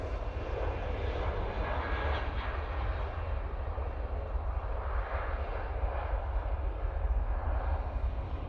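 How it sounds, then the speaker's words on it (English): Deep, powerful jet roar of a Ryanair Boeing 737-800 with split scimitar winglets taking off at Manchester Airport, a heavy steady rumble with low-end thunder, loud and sustained with no talk. "We can transition on to this Ryanair 737-800."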